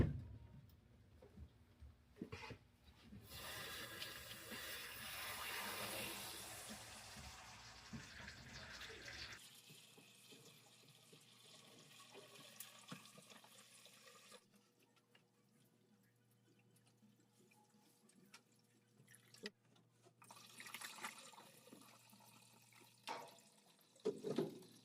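Water draining from an opened household pipe while a shut-off valve is being replaced, a steady splashing rush for the first several seconds that thins into intermittent trickles and drips, with quieter handling noises later.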